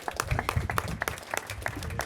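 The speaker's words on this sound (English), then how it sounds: "You can clap at that one." Audience at a Chinatown subway station event clapping for Speaker Nancy Pelosi, a short burst of fairly sparse individual claps, moderately faint.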